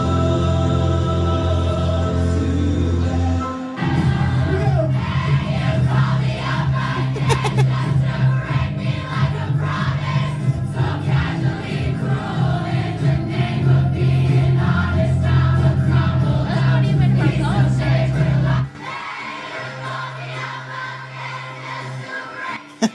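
At a Filipino live concert, a large crowd sings along with the music, loud and sustained, before the sound drops suddenly near the end into a quieter held tone.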